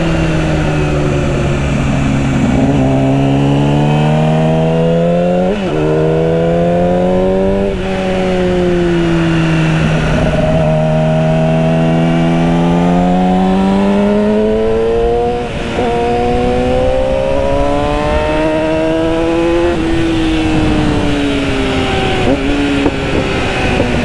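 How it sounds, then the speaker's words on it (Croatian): A 2008 Yamaha R6 with an Akrapovič exhaust revs loudly and up close, its engine note climbing and falling through repeated throttle blips. "kako puca ovaj Akrapović?"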